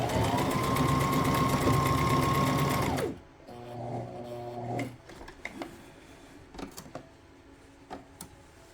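A sewing machine stitches a two-tone flare skirt near elastic at the waist, running loudly and steadily for about three seconds, then a shorter softer run followed by scattered handling clicks and rustles.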